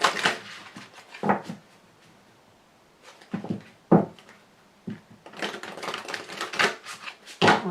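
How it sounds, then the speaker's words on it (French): Very large tarot cards are shuffled by hand, giving bursts of crisp riffling and flapping card noise in irregular clusters, close and moderately loud, separated by short quiet gaps, with no talking. "en espérant qu'elles sautent, c'est pas évident parce que elles sont très très grandes ces cartes"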